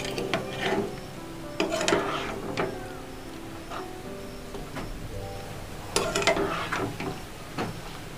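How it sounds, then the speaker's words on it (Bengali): Boiled mangoes are stirred into sugar syrup in a pot for a mango chutney, with soft scraping and clinking spoon strokes in irregular bursts over a quiet background. "এবার ভালো করে চিনির শিরার সঙ্গে আমগুলো মিশিয়ে নেব"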